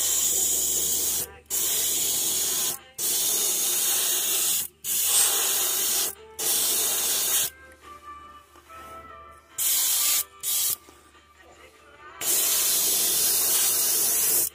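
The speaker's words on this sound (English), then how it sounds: "It doesn't want to spray." An airbrush sprays paint for a smallmouth bass pattern in close, hissing bursts that start and stop repeatedly, then sputter unevenly before a longer steady spray resumes.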